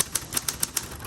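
Typing on a 1960s Spa Blue Coronet Electric typewriter, a run of crisp, evenly spaced key strikes, about one every tenth of a second, close and clear over a faint steady motor hum.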